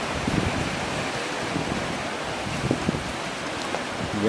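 Rough sea waves wash steadily at the harbour beach in Cefalù, Sicily, a dense continuous roar of surf with some wind, heard fairly close and without any talking.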